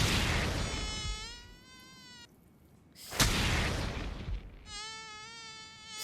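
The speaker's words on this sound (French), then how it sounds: "C'est quoi ce moustique immortel là?" A mosquito in the anime One Punch Man whines in high, wavering buzzing passes, with a sharp hit between bursts and a low rumbling background.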